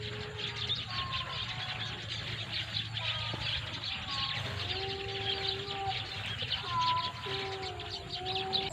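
Sparrows chirp around their nests, with many small birds giving bright, overlapping calls and whistled notes at moderate distance over a constant background hum.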